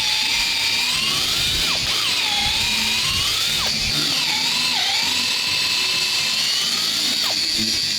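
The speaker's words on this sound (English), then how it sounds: "I was going to put a spade bit through as far as I can just to get a start the centre of the hole." Drill turning a spade bit through old WWII-era German wood, a high whining tone that rises and dips as the load changes, close and continuous with no talking.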